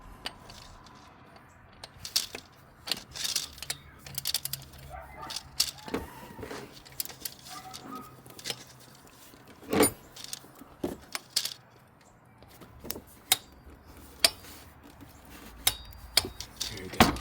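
Scattered sharp metallic clicks and ticks come from a torque wrench tightening the serpentine belt tensioner bolt on a Lexus LS460, close and irregular over quiet background noise, with faint talk in places.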